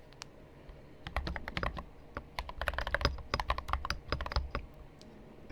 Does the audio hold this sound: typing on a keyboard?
yes